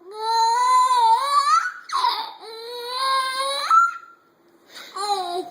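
A baby vocalizes up close in long, wavering, sing-song sounds, three stretches of noise separated by short pauses.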